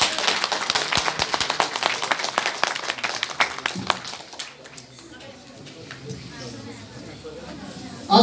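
A church congregation at a Nepali Christian wedding claps together in thanks, a dense burst of hand claps for about four seconds that thins and fades into a quieter room murmur.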